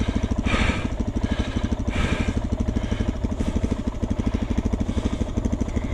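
A dual sport motorcycle engine chugs in a steady, rough, rapid pulse at low throttle on difficult terrain. It swells briefly in a couple of gentle revs, close and continuous.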